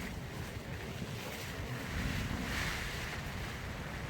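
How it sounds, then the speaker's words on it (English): Strong, continuous wind roars and buffets an inflatable air shelter outdoors, rising in force partway through, with no voices. "Saturday morning we woke up to really strong winds."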